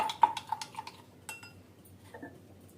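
A spoon stirring gond katira and sabja seeds in water for sharbat, light metallic clinks and taps against a glass in a quick cluster, then a few sparser knocks, quiet and close.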